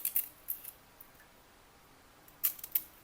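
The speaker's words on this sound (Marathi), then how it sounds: "शेंगाला असं कापून घ्यायचं बघा।" A knife cuts and scrapes drumstick pods, making a few quiet, crisp snips near the start and again near the end, with quiet pauses in between.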